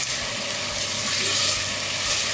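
Chicken fries in a pot over a medium flame, giving a loud, even, broadband sizzle that holds steady throughout with no voices over it.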